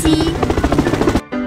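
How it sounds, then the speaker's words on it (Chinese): A cartoon grey round helicopter makes a quick, loud burst of rhythmic rotor chopping, lasting about a second before a sharp cut and a brief tail. "灰色圆形直升机"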